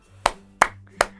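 Three sharp, evenly spaced hand claps close to the microphone, keeping the beat of a children's clapping chant in an online kindergarten class.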